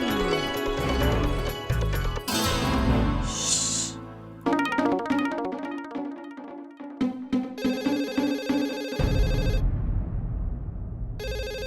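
A telephone rings in a comedy scene with a loud, repeating electronic ringtone over layered musical stings and effects. It is full and close throughout, with brief pauses between bursts.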